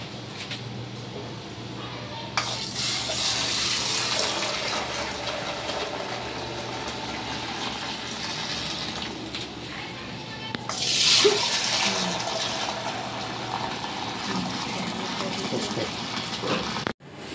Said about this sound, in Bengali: এখন আমি দুধ ঢেলে দেবো, সব রেডি করছি।